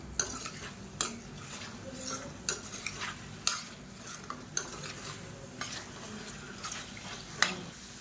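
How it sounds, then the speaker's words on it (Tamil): Egg whites being stir-fried in a pan over a high flame, with a steady sizzle under repeated scraping and clinks of a spatula against the pan, close and fairly loud, no talking. "இப்போ ஹை ஃப்ளேமில் வச்சுட்டு நல்லா பரட்டி விட்டுக்கலாம்."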